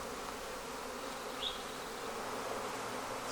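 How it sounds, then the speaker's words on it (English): Guard bees from a red Flow Hive keep up a steady, dense buzz close by, with one brief louder swell as a bee passes near; no voices. "See all these guard bees take flight?"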